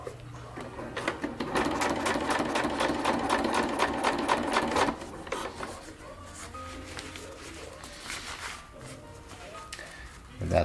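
A sewing machine tacks the edge hem of an ultralight tarp, its fast steady stitching whir running loud for about five seconds before dropping to quieter handling noises and brief machine bursts.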